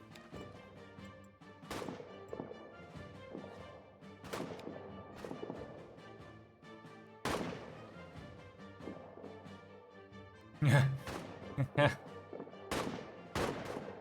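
A trench war video game fills with sharp gunshots cracking out in scattered single bursts, with a louder grenade-like blast cluster near the end, while a voice talks between the shots.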